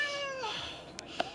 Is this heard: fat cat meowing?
yes